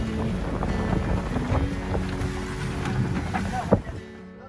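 Wind gusts across a sailboat at sea crossing open water in the Exumas, a steady roar of wind on the microphone mixed with water and boat noise, close and continuous before fading out at the end.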